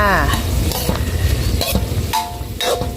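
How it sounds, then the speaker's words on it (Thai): Holy basil leaves stir-fried with beef in a pan over a gas flame, loud close sizzling and repeated spatula scrapes and knocks against the pan, with a brief vocal sound at the start. "ใส่ลงไปเลยค่ะผัดให้ใบกะเพราสลดก็ปิดแก๊สได้เลยจ้า"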